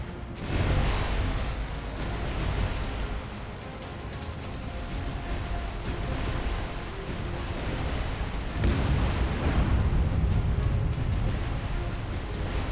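Naval gunfire and exploding shells in the naval combat game War on the Sea, a dense, continuous roar of booming blasts with rumbling swells, loudest surges near the start and again after about nine seconds.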